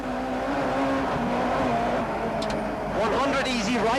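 A rally car on a stage of the 1991 Circuit of Ireland Rally, freshly fitted with a new steering rack, drones with a steady engine note that rises as it revs, heard under a narrator's voice.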